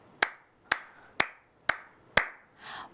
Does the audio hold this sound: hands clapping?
yes